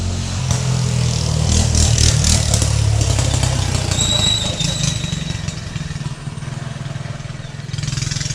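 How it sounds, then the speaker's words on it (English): A small mini bike engine revs and buzzes nearby for several seconds, loud and steady with rattling clatter, the pitch easing slightly partway through before climbing again. "We'll pause for a brief mini bike intermission"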